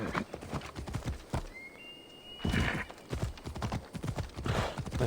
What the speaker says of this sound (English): Let's go, my faithful steed. Gallop, don't gallivant.